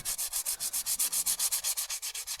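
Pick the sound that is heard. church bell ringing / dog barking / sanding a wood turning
sanding a wood turning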